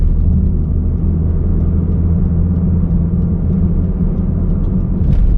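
A car on the highway picking up speed, a loud steady low rumble of engine and road noise from inside the cabin, with a brief sharp sound near the end.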